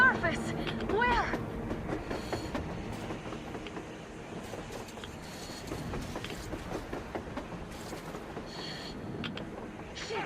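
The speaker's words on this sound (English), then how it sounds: "A damn train on the surface!" A train rolling along rails in the Metro Exodus game world, a steady rumbling clatter with repeated clicks and metallic squeals, loud at the start and then settling into a continuous run beneath a voice talking.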